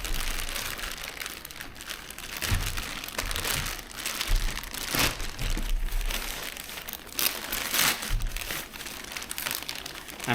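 Factory plastic wrap crinkling and crumpling around a foam-packed genuine Suzuki motorbike part, continuous close rustling with sharper crackles throughout.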